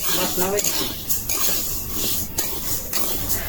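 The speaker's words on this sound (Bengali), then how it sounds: "ডালগুলি ভাজা হয়ে গেল, নামাইনি" Mung dal dry-roasts in a pan, heard as a close, continuous scraping and rustling stir with a faint sizzle, while a brief voice murmurs early on.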